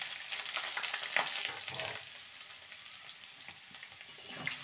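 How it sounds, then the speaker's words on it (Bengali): Cut vegetables fry over a medium flame for an amaranth leaves dish, making a soft, fairly quiet sizzle with intermittent stirring scrapes and crackles. "মিডিয়াম ফ্লেমে সবজিগুলোকে ভেজে নেব।"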